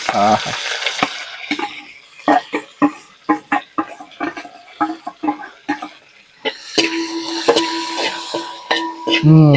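Beef and coconut pieces fry in a pan for a Kerala-style beef ularthiyathu, with rhythmic scraping stirs over a constant close sizzle.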